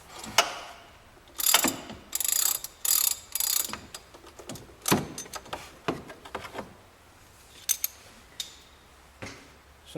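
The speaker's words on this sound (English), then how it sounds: "use a 1/2 inch drive ratchet to break it loose" A 1/2 inch drive ratchet clicks in quick bursts of sharp, close pawl ticks as it loosens an over-running alternator pulley on a VW, with short pauses between strokes.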